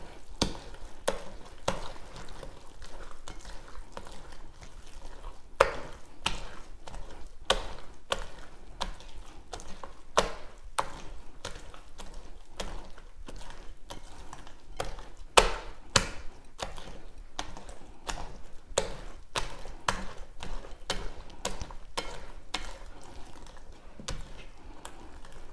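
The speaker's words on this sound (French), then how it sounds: "Il faut mélanger jusqu'à ce que vous obtenez une consistance homogène pour notre gâteau" Vanilla cake batter is mixed by hand in a bowl, producing repeated irregular scraping and tapping strokes at close range that continue steadily with no talk.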